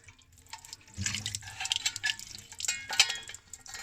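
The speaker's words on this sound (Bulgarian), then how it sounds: "Има си и кранче, с което можем да напълним водичка и да я пробваме." Water running from an outdoor tap in the Strandzha hills: faint, uneven splashing and trickling with small drips, fairly close and without voices.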